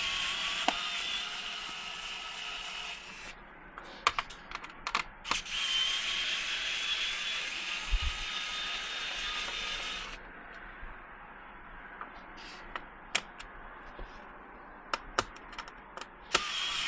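A Fanttik E1 Max cordless electric screwdriver spins out Phillips screws from a hard drive, with two sustained motor whirs separated by scattered clicks and taps of handling, close and fairly quiet.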